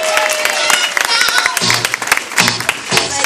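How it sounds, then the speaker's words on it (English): Birthday applause at a Chicago dance party for a woman named Ernestine, a burst of clapping and crowd noise with music and voices mixed in, fairly loud and choppy. "so let's give her a round of applause"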